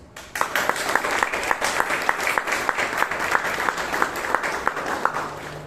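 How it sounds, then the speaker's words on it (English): Steady audience applause at a Toastmasters meeting in Bangalore, with a rhythmic collective clapping pattern, fairly close and continuous for several seconds. "A big round of applause for our super dedicated and meticulous President."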